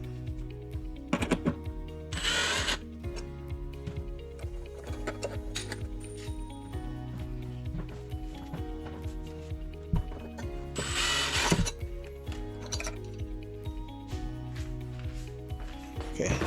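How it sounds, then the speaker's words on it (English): Ratchet tool clicking while a window blind mounting bracket is removed, repeated rapid close clicks in bursts with clattering handling noise, alone without talk. "now just to remove the mounting bracket"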